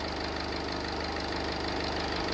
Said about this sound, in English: That's your DV4, your 1400 TDCi, Ford call it, 1400 HDI, Citroen and Peugeot call it.